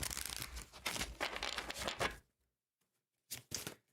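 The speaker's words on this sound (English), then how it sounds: "Let's do 2 more shuffles," Tarot cards shuffled by hand in two bursts, a steady riffling crackle for about two seconds, then silence, then a shorter double riffle near the end, close and clear with no talking.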